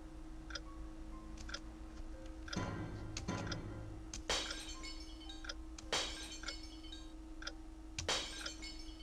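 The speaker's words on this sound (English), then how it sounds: "Why does the glass break every time I want to read it?" Glass breaks in the video game 7 Mysteries, heard as a series of faint, sharp clinks and ticks spaced across the clip over a low steady background hum.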